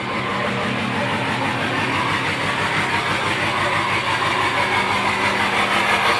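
A Ford F-250 diesel pickup with a fifth-wheel hitch idles close by, giving a loud, steady, rumbling drone with a constant low chatter and no pauses.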